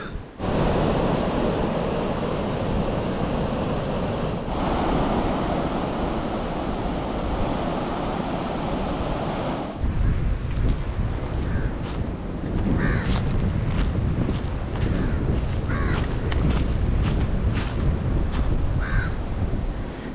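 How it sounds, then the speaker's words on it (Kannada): Strong, steady wind roars and buffets the microphone throughout at Dodda Balse Beach near Murudeshwar, with crows cawing faintly in the later half. "ಎಂತ ಘವ ಘವ ಘವ ಘವ ಗಾಳಿ ಹೊಡಿತಾ ಉಂಟು"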